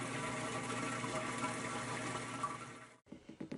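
A General Electric washing machine's water pump runs on a test cord and drains water, giving a loud, steady whooshing hum for about three seconds before it cuts off abruptly, followed by a few faint bumps.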